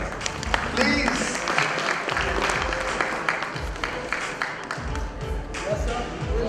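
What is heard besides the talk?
audience applause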